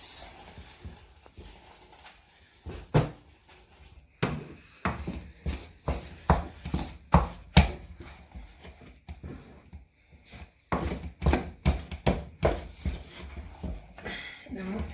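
Semolina dough for pounded yam being mixed by hand in a pot, giving irregular thumps and scraping knocks, close and moderately loud, clustered in uneven bursts with brief quieter gaps.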